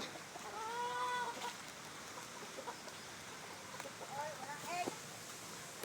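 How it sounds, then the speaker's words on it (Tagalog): Hens clucking and calling softly at a distance, a few short bursts over a quiet outdoor background. "Ayan yung mga manok."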